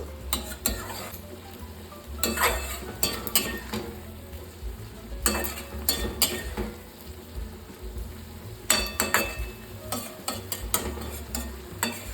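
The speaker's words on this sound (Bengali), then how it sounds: "টমেটোটা দিয়ে আমি ভালোভাবে নাড়িয়ে চাড়িয়ে নেব।" Tomato is stirred into a potato curry in a pan, with clustered scraping clinks of a spoon against the metal over a soft sizzle. The stirring comes close in several bursts with pauses between, and there is no talk.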